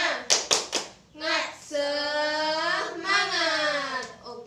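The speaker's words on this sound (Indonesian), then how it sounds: "Tepuk semangat." A fifth-grade class does a rhythmic spirit clap, three quick sharp claps close together, then children's voices break into a long sung chant.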